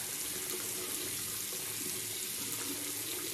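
A bathroom tap runs steadily during a wet shave with bay rum shaving soap, giving a constant close hiss of flowing water with no pauses or other sounds.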